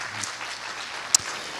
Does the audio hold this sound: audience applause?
yes